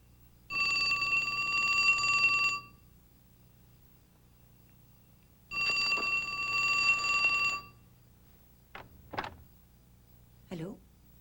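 A bright electronic telephone bell rings in two long bursts separated by a pause, close and clear, followed by brief speech.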